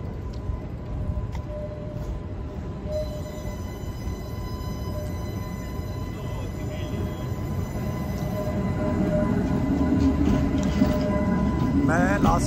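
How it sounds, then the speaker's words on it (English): Train passing through Budapest, a steady rumbling rail roar with faint tonal hums and squeals that builds louder toward the end, heard at fairly close range while a voice talks intermittently over it. "This is the train."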